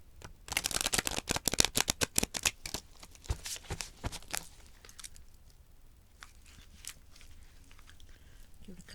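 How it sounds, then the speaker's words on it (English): A deck of tarot cards is shuffled by hand nearby. A fast riffle of crisp, flapping clicks comes first, followed by softer, scattered card rustles that fade away. "Give it a couple more shuffles."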